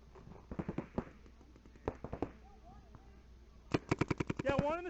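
Paintball guns fire during a paintball game in rapid popping strings of shots, some close and sharp, others farther off, with quiet gaps between volleys and a fast burst near the end. Voices can be heard faintly in the background.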